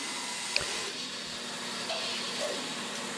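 A bandsaw runs steadily, cutting a block of wood into a banana shape, with a continuous airy motor whine and a single faint click near the start.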